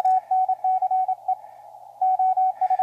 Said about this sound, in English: So we hear a signal in there.